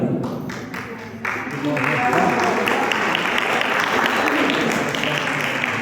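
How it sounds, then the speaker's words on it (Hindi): An audience at a mathematics magic teacher-training program breaks into loud, sustained applause that swells and holds steadily, dense clapping from a crowd filling the room. "अगर मजा आया तो जोरदार तालियां एक बार आप लोग अपने लिए"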